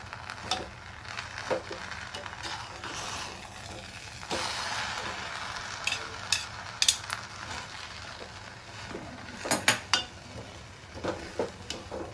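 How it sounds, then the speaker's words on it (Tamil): Kodo millet upma being stirred in a pan, with spoon scrapes and clinks against the metal over a soft sizzle, irregular knocks clustered toward the end. "இதை வந்து லேசாக கிண்டி விட்டுக்கிடலாம்"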